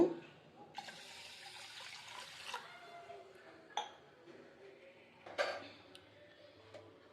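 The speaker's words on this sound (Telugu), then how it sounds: "ఇప్పుడు దీంట్లోకి మనము ఒక గ్లాస్ వాటర్ పోసుకుందాము" A glass of water pours into a pot of rice in a steady, moderate stream lasting a few seconds, followed by light clinks and kitchen handling sounds; no talking.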